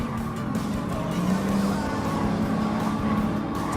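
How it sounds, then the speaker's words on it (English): An Audi TT from 2003 racing in Gran Turismo Sport, with a steady, continuous engine drone and a shifting mid-pitched whine, heard alone throughout. "let's race number 3. We're using the Audi TT 2003"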